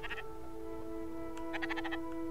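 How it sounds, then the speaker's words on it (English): A sheep bleats in the Spiritfarer video game, short wavering calls heard twice, at the start and again near the end, over a constant droning game music tone. "A sheep!"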